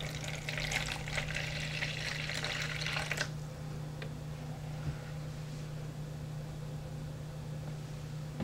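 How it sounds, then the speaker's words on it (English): Water poured into a Sichuan-style spicy sausage self-heating hot pot, a close splashing stream for about three seconds, then a quiet background hum with faint small knocks. "Add water."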